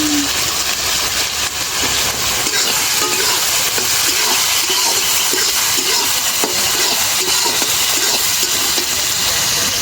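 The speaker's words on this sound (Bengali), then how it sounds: "মাছ ভাজা তেলে পেঁয়াজ ভাজে নেব।" Onions frying in oil left over from frying fish, a steady, loud broadband sizzle and hiss that runs unbroken from start to finish, close by, with no voices over it.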